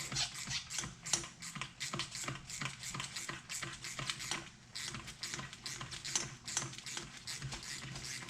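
A wrench ratchets and clicks rapidly and steadily up close while a nut comes off the rear shock absorber of a MK6 Ford Fiesta.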